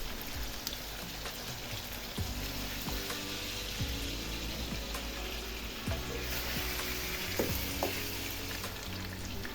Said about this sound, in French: Je remue l'ensemble pendant 1 minute.